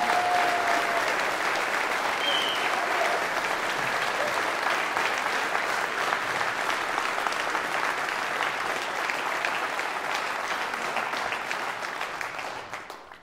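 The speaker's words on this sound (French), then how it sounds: "Un tonnerre d'applaudissements" Sustained, dense applause from a large crowd at a final campaign rally, honouring Florence Andrelus; loud and steady throughout, tapering slightly at the end with no speech over it.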